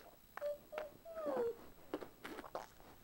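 A cat lets out a few short meows, then a longer drawn-out wail, fairly quiet and close, with small rustles between.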